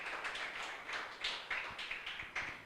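A church congregation clapping hands in a steady rhythm, about two claps per second, moderately distant with room echo, no voices over it.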